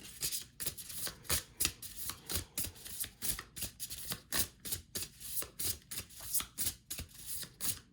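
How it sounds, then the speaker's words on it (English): A deck of tarot cards being shuffled over and over, a steady run of quick crisp riffles and rustles with short pauses between bursts, close up with no talking. "Shuffle the cards, okay?"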